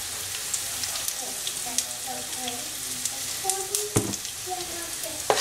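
Turmeric, dry ginger and hing sizzle steadily in a pan for a dry ginger thokku, with a continuous crackle, occasional stirring knocks and a faint voice in the background.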